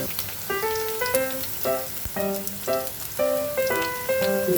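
Garlic, chopped and tossed into a pan of frying dried chillies for potol bhorta, sets off a steady hissing sizzle that runs under background music.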